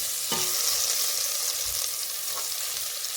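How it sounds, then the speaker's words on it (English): Butter melts in a pot before shrimp broth is made, a close, even sizzle with a soft crackle and one or two faint scrapes, steady throughout and without speech. "on a pot I will add butter and let it melt nicely"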